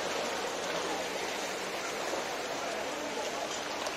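Floodwater rushes forcefully along a town road in Silchar, Assam, a loud, continuous broadband roar of churning water that holds steady throughout without breaks.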